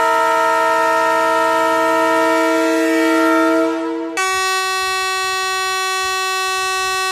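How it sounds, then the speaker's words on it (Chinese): Taiwan Railway trains sound their horns for five seconds in mourning after the Taroko train accident, a loud sustained horn tone that holds steady, then shifts abruptly to a second higher blast that continues to the end. "全台火车鸣笛五秒哀悼"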